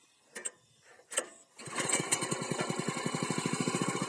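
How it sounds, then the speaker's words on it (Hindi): Small petrol power weeder used for tilling a field: a few pull-start tugs, then the engine catches and settles into a fast, steady putter, loud and close. "दोस्तों, ये हमारा इंजन स्टार्ट हो गया है।"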